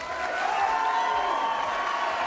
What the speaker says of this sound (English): and now your applause.